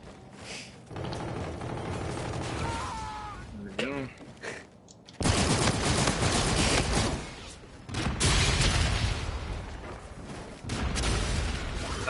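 Gunfire in a first-person shooter video game, with bursts of loud rapid shots and booms filling much of the stretch, separated by short quieter gaps.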